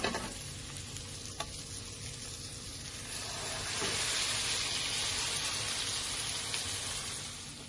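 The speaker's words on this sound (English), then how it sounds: "And we push them down so they make contact and get a good sear on the skin." Branzino fillets sear skin-down in a hot pan, a loud continuous sizzle and hiss that swells midway as the fish is pressed, with a few small clicks and no talk.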